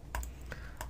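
Someone types on a computer keyboard, giving three or four sharp, quiet keystrokes spaced out over a soft steady background.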